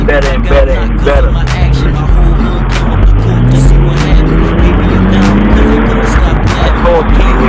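A rear-engined Porsche revs loudly close by, its engine note climbing and falling in repeated sweeps over a dense roar, with sharp clicks and snaps cutting through throughout.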